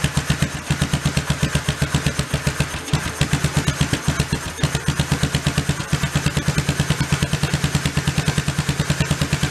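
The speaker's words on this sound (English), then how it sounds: "Sounds better already. Gotta turn that idle speed up." An early Honda 4x4 ATV engine idles close by with a steady, rapid chugging pulse and a slight mechanical clatter. The idle runs unevenly and rough throughout.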